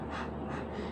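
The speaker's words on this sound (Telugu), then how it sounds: "ఆ ఊపిరి తీసుకున్నా వినిపిస్తుంది క్లారిటీగా కదా" A person's breathing close to the microphone, one soft continuous breathy rush of air lasting under a second, quiet and alone with no talk.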